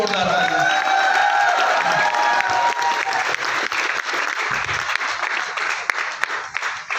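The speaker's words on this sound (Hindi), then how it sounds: "तो एक बार आप सब के लिए जोरदार तालियां।" Audience applause at a gathering, loud sustained clapping from a crowd with a few scattered cheers, dense and continuous throughout.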